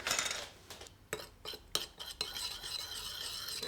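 A spoon stirs a yakisoba sauce of sugar and soy sauce in a small bowl, giving a handful of sharp clinks and scrapes against the dish at irregular intervals, close and fairly quiet.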